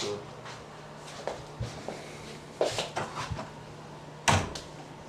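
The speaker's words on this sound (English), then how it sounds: "Let me close this door." A door being shut in a music studio, giving a few scattered knocks and thumps with one sharper bang near the end, close by against quiet room tone.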